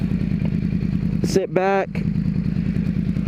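Sportbike engine revving during a wheelie, a loud steady idle-like rumble with one sharp rising rev burst, while someone speaks briefly over it.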